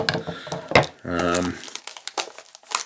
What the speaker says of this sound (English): Give me this pair of scissors. Let's just see if we can't trim this in.